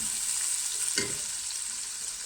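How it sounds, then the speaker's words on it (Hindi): Chana dal and masoor dal fry in a pan over high flame with a soft, steady sizzle and one brief stirring scrape, fairly quiet and without any speech. "इस स्टेज पर मैं चना दाल और मसूर दाल दोनों को ऐड कर दूँगी अंदर, और उनको मैं 1 मिनट के लिए अच्छे से थोड़ा सा फ्राई करूँगी"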